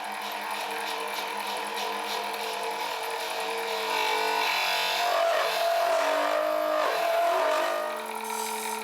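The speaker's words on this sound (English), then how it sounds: "So I started that operation with a Forstner bit and my Jacob's chuck." A Forstner bit held in a Jacobs chuck bores into the end-grain core of a wooden salt and pepper mill caddy on a lathe, a continuous whirring, grinding drone that swells slightly midway and stays steady and close throughout.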